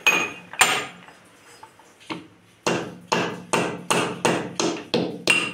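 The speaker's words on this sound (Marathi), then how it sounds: "आता हे जायफळ आपण अर्ध कुटून घेणार आहे," Whole nutmeg pounded coarsely in a mortar for masala tea, a series of sharp, close knocks that start sparse and then fall into a steady rhythm of about eight even strikes, with no talking.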